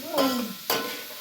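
Tempered rice (phodnicha bhat) is stirred in a hot pan, with two scraping stirs over a soft sizzle of frying, close and moderately loud.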